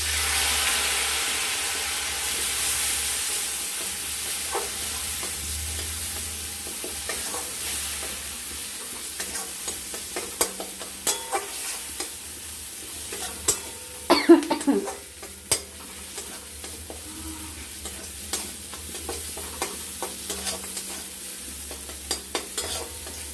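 Ground spices fry and are stirred in a pan for a hilsa-head and taro-leaf dish, giving a soft continuous sizzle broken by repeated scraping and clacking strokes, louder in the middle stretch.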